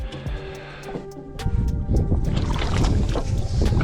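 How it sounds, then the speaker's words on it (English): A boat anchor dropped into a lake while walleye fishing: a few sharp metallic clanks and rattles, then a louder rushing, splashing clatter of chain and water close to the microphone. "I am gonna drop the anchor."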